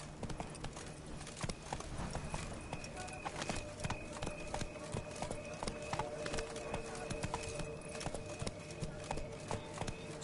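Roach, Geralt's horse in The Witcher game, trots along with steady, fairly quiet clip-clopping hooves, joined by faint ambient tones and occasional speech.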